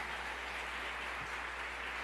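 Steady, faint, even applause from a church congregation during a sermon, a continuous wash of clapping over a low hum, with no voices.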